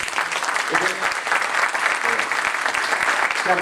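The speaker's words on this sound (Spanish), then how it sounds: "Un fuerte aplauso nuevamente para ellos." Audience applause after a talk on investigating computer crimes: a steady wash of many hands clapping, fairly close and sustained throughout, with faint voices murmuring underneath.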